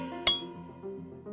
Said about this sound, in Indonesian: Kalau kamu memukul batu ini dengan benda berat, misalnya palu atau batu lain, batu-batu ini bakal menghasilkan suara dering